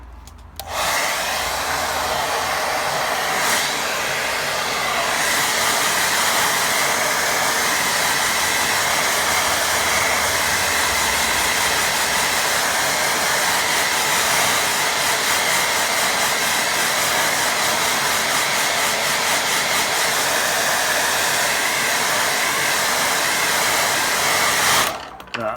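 A hair dryer blows continuously and loudly for about 25 seconds while drying a watercolour painting of a stream, switching on at the start and cutting off at the end.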